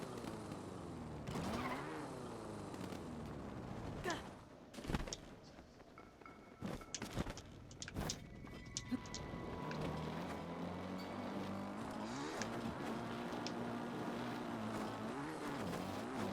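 Motorcycle engine hums continuously while riding across terrain in Zelda: Breath of the Wild, its pitch rising and falling, with several sharp loud bursts in the middle and no talking.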